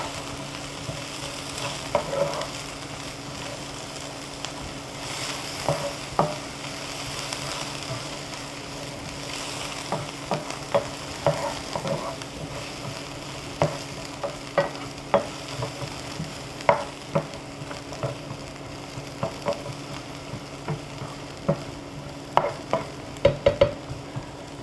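Carrots and peppers stir-fry in a hot pan with a steady close sizzle, broken by frequent clacks and scrapes of a utensil stirring the vegetables.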